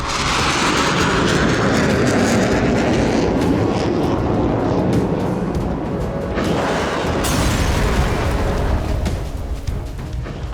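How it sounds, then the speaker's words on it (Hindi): Israeli military fighter jets fly over Gaza, a loud, continuous broadband roar that fills the whole stretch, steady and near, with no voices over it. "आईडीएफ के फाइटर जेट लगातार गाजा के अलग अलग इलाकों में रेकी कर रहे हैं"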